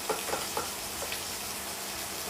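Chicken sautéing in a pan, a steady soft sizzle with a few brief clinks of stirring near the start, heard alone without talk.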